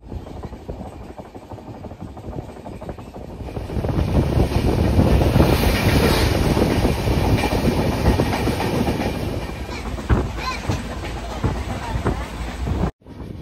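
The Okha Express 16337 passenger train runs along the tracks, a loud continuous rumble with wind buffeting and rhythmic clatter that swells midway, heard from onboard without talk.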